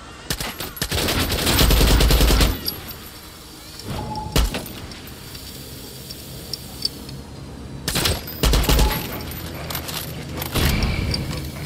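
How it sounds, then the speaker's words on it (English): Gunfire in the video game Far Cry 6, several loud bursts of rapid shots with quiet gaps between them, close and sharp, plus some clinking and clattering. "What if I shoot it?"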